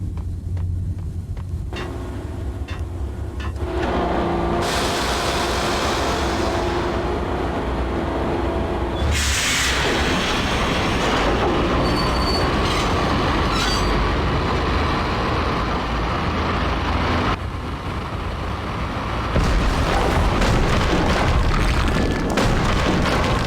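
A subway train running in the action game Max Payne, a loud continuous rumble of wheels and carriages with shifting roar and booming bursts, sustained for the whole stretch.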